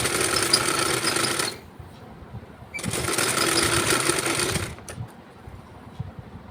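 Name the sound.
sewing machine stitching blouse fabric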